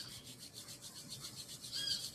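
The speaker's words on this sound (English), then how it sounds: "Rub them together vigorously." Hands rubbing together vigorously during a sunrise yoga session: rapid, rhythmic swishing strokes of skin on skin, close and soft but steady, with no talk.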